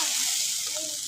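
Noodles dropped into a sizzling pan of fried vegetables, cabbage and dried shrimp, a dense, bright hiss that stays even and close throughout the brief moment, with no voices.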